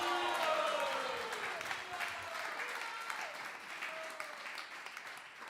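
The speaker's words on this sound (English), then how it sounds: "Another round of applause." An audience at a live Sandhya Kirtan in Texas gives the visiting musicians a round of applause, dense clapping that gradually fades, with cheering voices and a few singing or calling tones above it.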